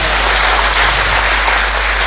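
Church congregation applauding and cheering for Jesus during a sermon, a loud, dense, continuous wash of clapping from many people, with no clear speech.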